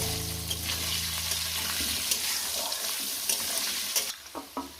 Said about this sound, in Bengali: এবার আলুটাকে সুন্দর করে আমি মিনিট চার পাঁচের ধরে ভেজে নেব